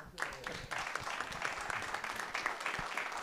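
Applause from an audience at the close of a lecture on startups, a dense steady patter of many hands clapping together for about three seconds, moderately loud throughout.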